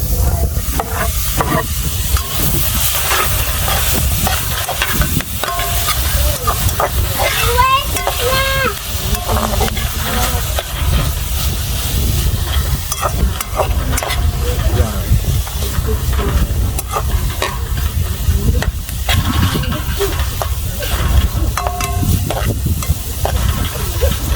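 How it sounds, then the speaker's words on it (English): Tomatoes tumble into a hot pan for a salt mackerel run down, setting off a loud, continuous sizzle with steamy hiss, while a spoon scrapes and stirs in repeated rhythmic strokes throughout. "So at this point I'm going to add in my tomatoes."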